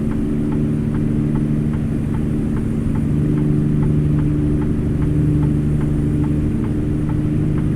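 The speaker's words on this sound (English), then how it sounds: "Man, that is one loud blinker." A truck's turn signal in American Truck Simulator clicks loudly at an even, rapid pace over the steady hum of the idling engine, going on without a break.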